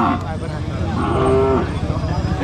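A carabao lets out a single drawn-out, fairly close moo at a stockyard, with a background murmur of surrounding activity.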